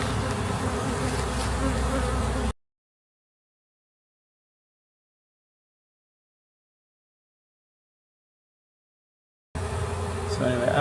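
Honey bees buzz in an opened hive during a queen replacement on a failing colony, a dense close hum heard briefly at the start and again at the end, separated by several seconds of complete silence.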